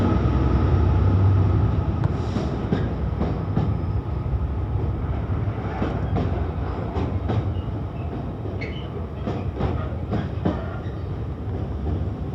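Freight train led by locomotive 66705 moving off at Primrose Hill, a loud, deep diesel rumble with sharp metallic clanks and wheel clicks scattered over a steady roar.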